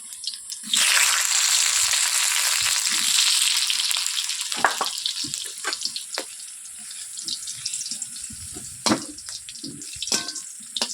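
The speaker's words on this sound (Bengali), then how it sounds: "তেলটা গরম হয়ে গেলে এবার আমি আলুগুলোকে দিয়ে নেবো হালকা লাল লাল করে আলুগুলোকে ভেজে নিতে হবে" Potatoes fry in hot mustard oil in a pan, giving a loud, dense sizzle that gradually settles into softer crackling, with occasional clatters of stirring.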